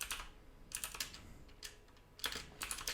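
Quiet computer-keyboard typing comes in short bursts of keystrokes separated by pauses, close and soft, as code is entered for Pimcore data objects; no speech.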